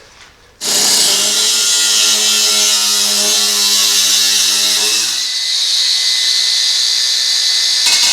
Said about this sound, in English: I'm just gonna take an angle grinder and cut out this little section here.